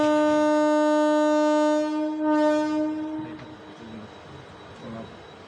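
Palaruvi Express diesel train departing Thenmalai station, a loud sustained horn blast for about three seconds followed by rumbling rail noise as it pulls away.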